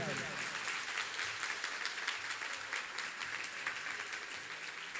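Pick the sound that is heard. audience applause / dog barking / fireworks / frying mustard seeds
audience applause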